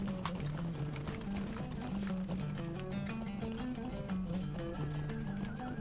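Horse hooves clip-clop steadily in Lord of the Rings Online at the Bree Town Festival Grounds, laid over a bright festive melody that plays throughout.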